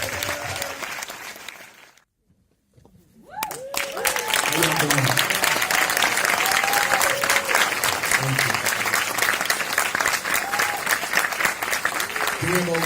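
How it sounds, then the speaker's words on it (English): Sustained audience applause fills a film festival event hall after a short silence, with whoops and cheering voices rising over the dense clapping throughout. "So let's clap it up, y'all."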